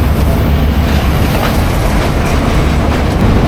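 Train rumbling steadily through a railway station in Sri Lanka, with a continuous loud low roar of rolling wagons and faint wheel clatter, no voices.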